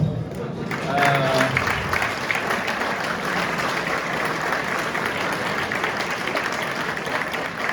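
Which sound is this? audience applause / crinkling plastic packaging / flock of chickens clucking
audience applause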